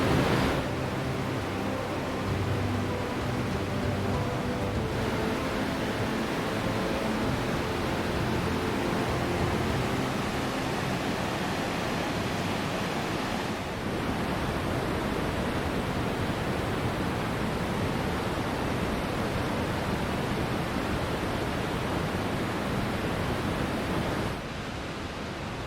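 The Sarayu river in Uttarakhand rushes beneath a bridge as a steady, loud, broadband roar of flowing water that holds constant throughout with no voices.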